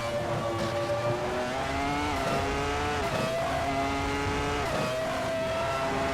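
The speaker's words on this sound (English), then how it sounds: "And let's hear the gearbox every time we're changing the gears." A race car in a racing video game at the Interlagos circuit drives at high revs, its engine note climbing and dropping sharply at each gear change, loud and continuous with no talk over it.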